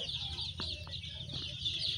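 A cluster of small chicks peeps continuously in high, thin chirps, fairly close, with a few soft clucks underneath.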